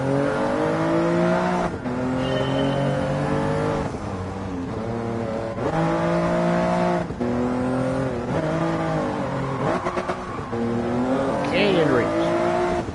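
Toyota Yaris racing at night in Gran Turismo 7, engine revving hard and shifting through gears with repeated pitch climbs and drops, loud and continuous, with occasional tire squeal and a voice talking over it.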